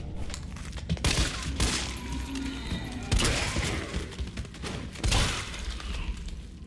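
Dense, chaotic bursts of gunfire and crashing impacts from the video game Resident Evil 3 run throughout, with sharp thuds recurring every second or two under a constant rumble.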